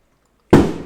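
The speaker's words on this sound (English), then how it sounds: "That was a firework." A single firework explodes outside with a sudden loud bang after silence, followed by a decaying rumble.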